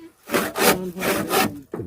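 Handsaw cutting through wood for a table leg, four long back-and-forth strokes in steady rhythm, close and fairly loud, with a short fifth stroke starting at the end.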